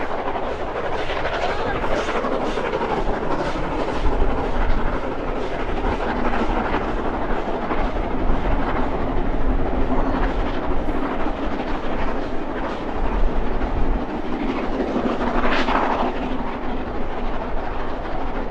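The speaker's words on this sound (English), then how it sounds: "Oh, steam train, quick, get your cameras out." A steam train rumbles past close by with a continuous loud roar and clattering, steady throughout with no clear talk over it.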